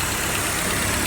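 A 2009 Ford Focus 2-liter four-cylinder engine idling at a wrecking yard engine test, a steady, loud, close mechanical hum with an even rhythm and no voices.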